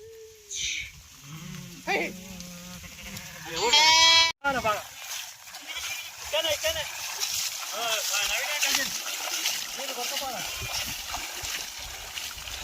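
Sheep being washed with water bleat several times close by, with splashing and people talking over much of the scene.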